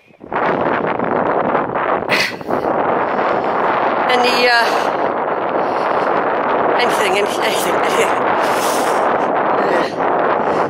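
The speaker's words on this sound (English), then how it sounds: "It's very windy, so I'm just doing short ones." Strong wind buffets the microphone beside a tidal river, a loud continuous roar with gusts throughout, while a person talks over it.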